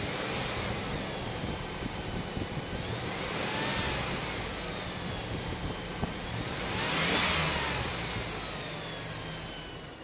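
A 2002 Chevrolet Tahoe engine idling with a steady hum and whine, rising gently twice as the revs swell around the middle and again later, with no talking.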